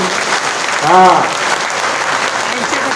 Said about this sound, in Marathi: त्यांना जोरा टाळ्या वाजा बरोबर अजित गावारीसाठी